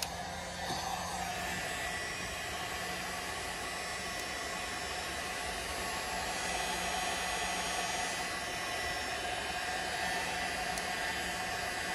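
Heat gun blowing steadily on an O-ring during a hydraulic cylinder rebuild, a continuous loud airy whoosh with a faint motor hum holding even for the whole stretch, no talking.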